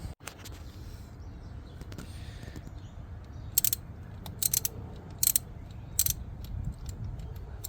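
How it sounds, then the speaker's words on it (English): Socket wrench ratcheting as it loosens an idler pulley bolt on a Mercedes-Benz C200 Kompressor engine, a few sharp close clicking bursts over quiet background handling. "you can just put the socket on and then hopefully get the pulley off"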